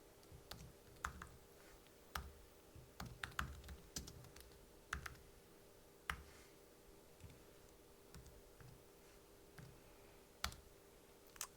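Keys on a computer keyboard clack in irregular bursts of taps at close range, quick clicks with short pauses over a faint steady background hum.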